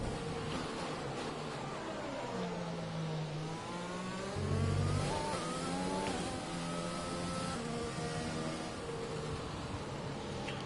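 Formula 1 race car engine in the F1 2020 video game at the Brazilian Grand Prix, a steady high-revving drone with rising and falling pitch sweeps as the car shifts and accelerates, loud and continuous with no talking.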